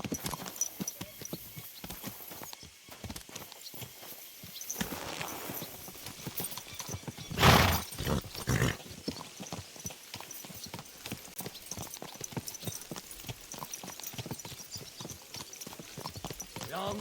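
Horses gallop in the medieval role-playing game Kingdom Come: Deliverance II, their hooves beating a fast, steady clip-clop rhythm, with a louder burst of hoofbeats midway and faint voices underneath.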